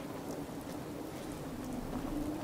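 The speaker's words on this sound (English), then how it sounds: "It's raining now." Steady rain falling in Fallout 4, a soft, even hiss of rainfall with a low rumbling undertone, constant throughout with no voices.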